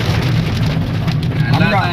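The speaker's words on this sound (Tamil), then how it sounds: "ஆனந்தம் மழை பெய்யுது" Steady rain pours down in Jaffna, a continuous broadband hiss that stays close and even throughout while people talk over it.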